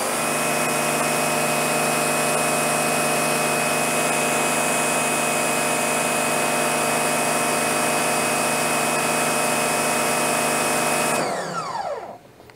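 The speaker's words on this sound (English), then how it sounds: "this 3000 PSI electric pressure washer. Now I have the most high pressure tip on here, so it's gonna make the motor work as hard as it can." A 3000 PSI electric pressure washer fitted with its highest-pressure tip runs on an AC inverter, a loud, steady motor and pump drone holding constant for about eleven seconds before shutting off and spinning down.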